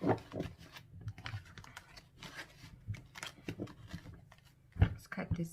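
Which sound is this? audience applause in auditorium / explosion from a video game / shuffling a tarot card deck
shuffling a tarot card deck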